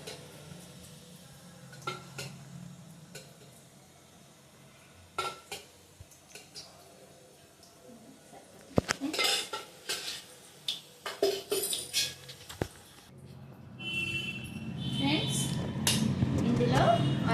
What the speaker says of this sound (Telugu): ఆయిల్ వేసేసుకుంటున్నాను ఫ్రెండ్స్.